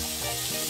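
K'jaras, a Bolivian dish, frying steadily in a pan, giving a dense continuous close-up sizzle alone with no talk.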